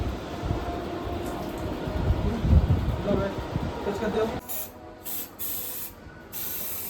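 A spray gun hisses out a protective plastic coating onto an air conditioner, a continuous loud spray with a rumble beneath, then short bursts with pauses near the end.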